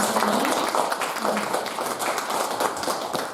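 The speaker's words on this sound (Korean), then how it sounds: "우리 다시 한번 크게 박수 보내주세요" A church class audience applauds together in a dense, steady burst of clapping that holds for a few seconds at moderate volume.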